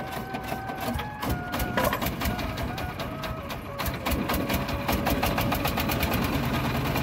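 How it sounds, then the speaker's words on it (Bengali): Engine-powered boat on the Jamuna river, a rapid mechanical chugging rattle with steady tonal hum, moderately loud and continuous throughout. "যমুনার বুকে ইঞ্জিন চালিত নৌকার শব্দ"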